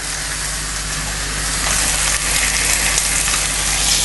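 A leg of lamb sizzles loudly in a hot pan over high heat, a dense, continuous hiss that stays steady and close for the whole stretch.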